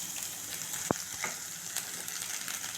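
Semolina and grated coconut roasting in a pan for Chettinad ukkarai sweet, a soft continuous dry sizzle with faint scraping of stirring and one brief sharp tap, quiet and steady.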